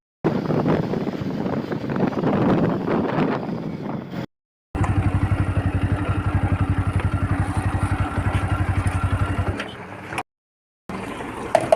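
A motorbike ridden early in the morning on the way to school gives a steady, close engine drone with wind rushing across the microphone, broken by two short silent gaps, and no talking.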